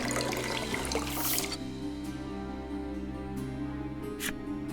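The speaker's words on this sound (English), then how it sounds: "Polka collects some of the lake water in a bottle." Lake water in the Voice of Cards video game pours and gurgles into a bottle, a steady liquid wash with a few brighter splashes, over a constant low musical hum.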